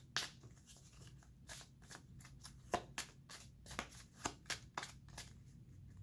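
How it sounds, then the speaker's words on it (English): Tarot cards being shuffled close by: quiet, quick riffling snaps repeating in an uneven rhythm, with no voices. "We'll give these a shuffle."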